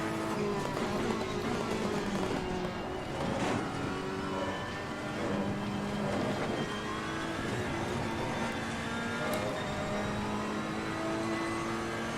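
A GT race car in Assetto Corsa Competizione, the British GT pack, roars steadily at high revs throughout, its engine harmonics rising and falling through gear changes, loud and close with no talking.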